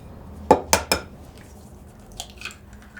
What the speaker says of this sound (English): I'm just putting a well in the centre and I'm going to add 1 egg